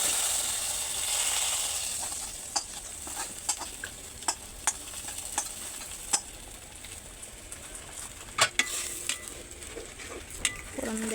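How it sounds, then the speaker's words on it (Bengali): Tempering spices hitting hot oil with onions, a loud hissing sizzle at first that settles into steady frying, dotted with sharp spoon clicks and scrapes against the pan. "আমি এখন ফোড়নগুলো দিয়ে দিচ্ছি।"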